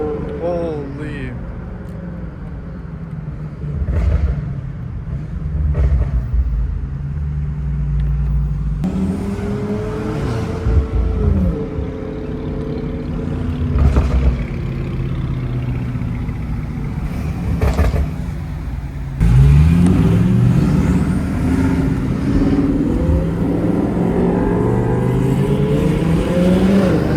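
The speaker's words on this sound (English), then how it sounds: "Turbos sound crazy." A twin-turbo Lamborghini Huracan accelerating hard, its engine roaring and surging in several loud pulls with rising pitch sweeps, mixed with people talking and excited voices throughout.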